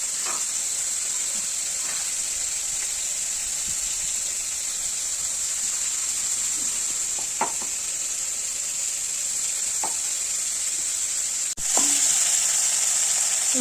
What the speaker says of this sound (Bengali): মায়ের চিংড়ি মাছটা ভাজা হয়ে গেছে, প্রায় ভাজা।